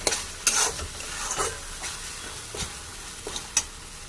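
Fish curry with yogurt, made with katla fish, is stirred in a frying pan, with a soft sizzle behind several scraping strokes and light clinks of the spoon against the pan, close and clear.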